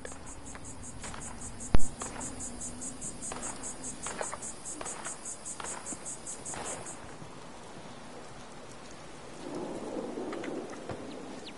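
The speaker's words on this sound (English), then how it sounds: "What a rainy day in the wasteland." Steady rain falls across a post-apocalyptic wasteland in a video game, a continuous soft hiss with insect chirping on top, one sharp crack early on, and a heavier wash of rain swelling near the end.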